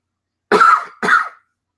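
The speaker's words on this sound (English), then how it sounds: "I'm sure you guys want to hear me cough." One person coughs twice in quick succession, two short dry bursts close by, with silence before and after.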